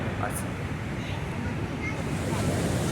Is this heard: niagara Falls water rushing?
yes